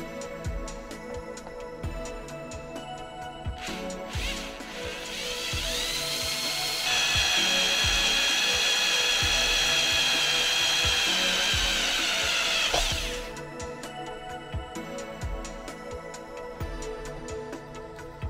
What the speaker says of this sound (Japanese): 横に穴を開けておきます。